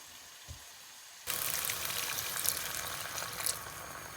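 White wine poured into a pan of crumbled Italian sausage sets off a sudden loud hissing sizzle after a quiet start, the bubbling crackle staying strong and steady with brief flares.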